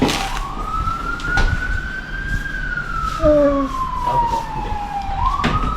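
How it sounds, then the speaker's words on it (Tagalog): A toy ambulance siren wails steadily in a long sweeping tone, loud and close, with a few sharp clicks and a brief extra chirp partway through. "It's an ambulance."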